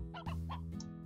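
A chicken in the video game Slime Rancher gives a few quick, close clucks in a short burst over a steady low game hum.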